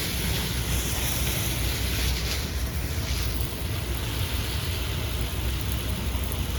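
Garden sprinklers spray water across a hot, dry backyard vegetable garden with grow bags and fresh mulch, giving a steady, even hiss of falling water with no voices.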